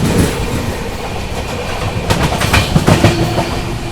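Shiv Ganga Superfast Express 12559 on the Banaras–New Delhi run races parallel to the Awadh Express. A steady, loud rolling rumble with wheel clatter swells into sharper rattling bursts partway through, and no voices are heard.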